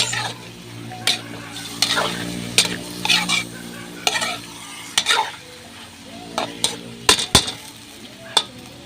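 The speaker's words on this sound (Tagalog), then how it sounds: "Nagsote na tayo ng bawang, sibuyas. Then, halo-halo lang guys." A utensil stirs and scrapes chicken adobo with sautéed garlic and onion in a pan over a wood-fired stove, with repeated clinks and scrapes over a steady sizzle, close and fairly loud.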